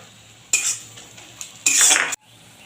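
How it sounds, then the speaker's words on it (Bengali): Frying onions in a pan as Kashmiri chili is added: two loud bursts of sizzling and scraping, with a quieter metallic clink between them, all close by. "আমার পেঁয়াজটা ভাজা ভাজা হয়ে গেছে এবারে দিয়ে দিচ্ছি কাশ্মীরি লঙ্কা"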